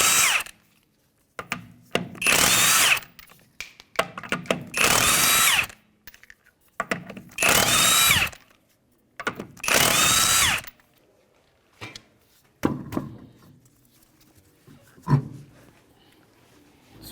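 A power tool spins off 21 mm lug nuts from the rear wheel of a 2015 Hyundai Sonata in five loud whirring bursts, each about a second long, with pauses and small clanks between them.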